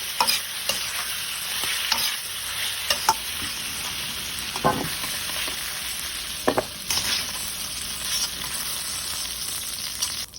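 Carrots and potatoes sautéing with meat in a pan for Filipino igado, a steady close sizzle with scattered spoon scrapes and clinks throughout, no voices.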